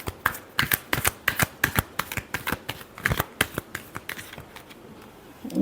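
Tarot cards riffle and snap in a rapid run of crisp slaps, close and distinct, during a final shuffle before a reading, with no talking over it.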